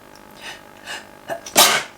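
A person sneezes close up: a few quick catching breaths build up, then one sharp, loud sneeze.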